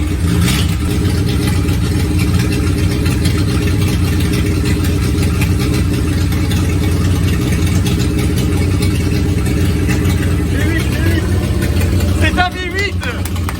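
A Renault 4L engine cranks and runs in a loud, steady mid-pitched drone throughout, close by, with people talking over it and a brief rattle near the end.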